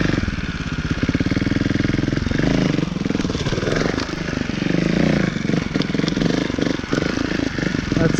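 A 2018 Beta Evo Factory 300 4T trials motorcycle engine on a log, a loud, close four-stroke thumping with revs rising and falling in short bursts and no talk.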